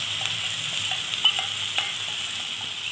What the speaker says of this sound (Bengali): সব মিশ্রণগুলো একটু নাড়াচাড়া করে নিচ্ছি